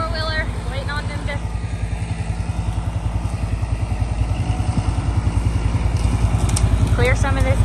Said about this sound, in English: I'm back on the four-wheeler waiting on them to...